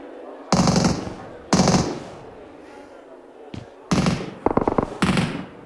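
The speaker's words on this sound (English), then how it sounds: "There's been bullets whizzing through the windows for a while." Bursts of automatic gunfire in PUBG Mobile, five loud volleys spaced apart with a brief sharp crack between them, the last ones stuttering into rapid individual shots.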